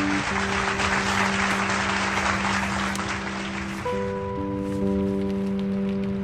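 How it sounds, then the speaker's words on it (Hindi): Dense crowd applause at an award ceremony as a trophy is presented, a broad steady wash of clapping with sustained musical tones running beneath it throughout. "तालियां।"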